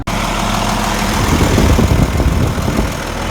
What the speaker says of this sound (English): Do you guys hear the motor? Motor, I think this is a Deutz in this one